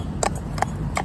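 Horse hooves clip-clopping at a trot in three spaced, distinct strikes against a low steady background rumble, from a horse being trained for safety in town traffic.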